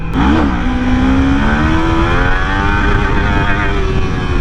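Small 400-class motorcycle engine held at steady, loud revs, a constant buzzing drone with a slight rise in pitch across the few seconds, heard alone up close.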